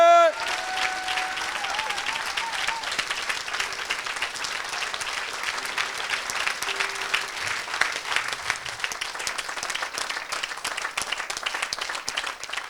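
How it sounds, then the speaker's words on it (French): Church congregation in a French-speaking revival service applauding and cheering steadily, dense sustained clapping from a large crowd throughout, with a voice briefly heard at the start. "Continue à acclamer, continue à acclamer!"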